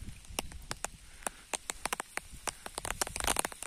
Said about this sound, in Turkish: Siz de duyuyorsunuzdur şemsiyeye nasıl damlıyor.